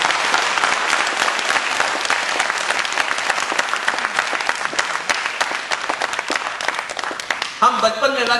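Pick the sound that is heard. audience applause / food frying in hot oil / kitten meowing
audience applause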